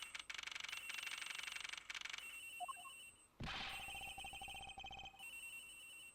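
Telephone in the video game Ace Attorney Investigations rings in repeated rapid trilling bursts, fairly loud, then breaks off with a brief clatter before a steadier electronic ringing tone resumes.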